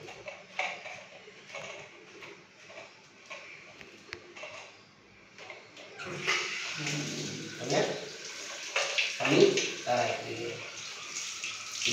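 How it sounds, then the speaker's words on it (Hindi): Tap water runs during a household fitting repair, a steady broadband rush that swells louder in the second half, with low knocks and handling noise and someone talking throughout. "पानी कैसे आते हैं देख लेता हूँ।"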